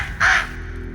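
A crow gives a single short, harsh caw, loud and close, rising out of a quiet background and fading quickly.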